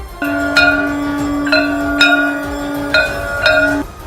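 Conch shell blown in a long steady tone before temple aarti, with a bell struck about five times at uneven intervals over it, loud and close, no speech.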